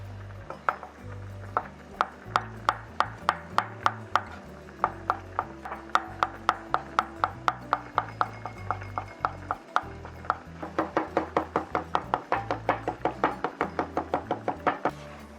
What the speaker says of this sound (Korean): 다음으로 홀토마토를 다져주세요.